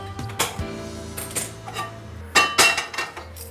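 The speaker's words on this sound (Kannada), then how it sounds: "ಈಗ ಪ್ಯಾನ್ ಇಟ್ಬಿಟ್ಟು ಸ್ಟವ್ ಹಚ್ತೀನಿ" A metal pan set down on a kitchen stove while cooking chicken gasa gase gravy, giving a few light clanks and taps, close and fairly quiet, with small scattered knocks and no talking.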